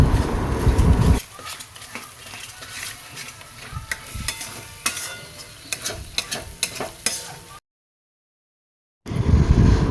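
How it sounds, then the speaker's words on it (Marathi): Masala frying in an onion-tomato paste in a pan, close sizzling under repeated spoon-stirring scrapes and clinks, with a brief silent gap near the end. "त्याच्यामध्ये तो बी मसाला टाकून द्यायचा फ्राय व्हायला"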